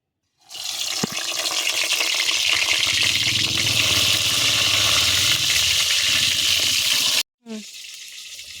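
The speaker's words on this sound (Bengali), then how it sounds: "এখন আমি বেগুনটা সুন্দর করে ভেজে নেব।" Eggplant slices drop into hot oil and fry with a strong, continuous sizzling hiss that starts abruptly and stays loud and even for several seconds, then stops short, followed by a brief clatter.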